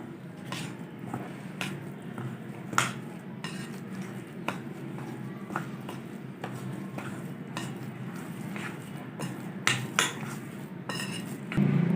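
Semolina and milk are mixed in a bowl with a spoon: repeated close clinks and taps against the bowl over a soft, continuous stirring swish, all without speech.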